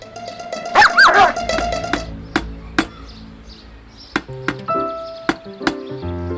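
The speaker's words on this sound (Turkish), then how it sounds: "Dikkat köpek var." A dog barks a few times near the start, followed by sharp clanks and knocks like pots or tools being handled nearby.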